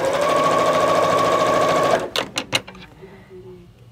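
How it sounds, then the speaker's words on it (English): A sewing machine stitches quilt block pieces for flying geese units, running in a steady close whir for about two seconds before stopping with a few brief clunks while someone talks. "I'm gonna go ahead and start sewing on my other wing on my flying geese."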